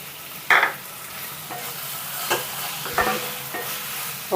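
Mint leaves stirred into soft cooked tomato in a pan for uggani, a few distinct spoon scrapes and a low sizzle, close and moderately loud with no talking.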